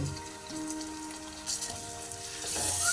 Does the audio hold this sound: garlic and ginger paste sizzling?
yes